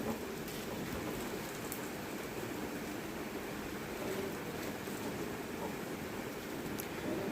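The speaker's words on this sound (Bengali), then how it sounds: "দেখো এইভাবে ভেজে বড়াগুলোকে তুলে নিতে হবে।" Dahi bara lentil fritters deep-frying in hot oil give a steady, dense crackling hiss that runs evenly throughout without pause.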